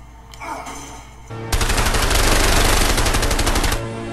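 Automatic gunfire in the video game A Way Out: a single loud, rapid machine-gun burst lasting about two seconds, close and dominant after a quieter lead-in.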